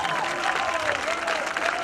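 Stadium crowd at an American football game in Białystok applauds a player after a touchdown, a broad sustained roar of clapping with a public-address voice speaking over it.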